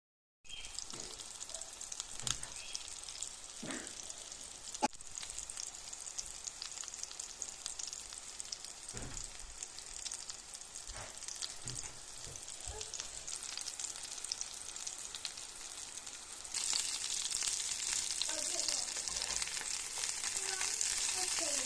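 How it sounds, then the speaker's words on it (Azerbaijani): Cutlets frying in a pan of vegetable oil until browned on both sides: a soft, constant sizzle with scattered faint pops and taps, growing noticeably louder toward the end. "Daha sonra duru yağ əlavə etdiyimiz tavada hər iki tərəfi qızarana dək yaxşıca bişiririk."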